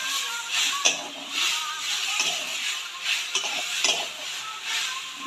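A spoon stirs moong dal with bottle gourd stems, salt and turmeric in a pan, giving repeated scraping strokes over a soft sizzle, close and distinct with no talk.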